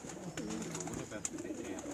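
Pigeons cooing on a rooftop in Kharian, a soft continuous low throaty warble close by, with faint background noise and a brief sharp click near the middle.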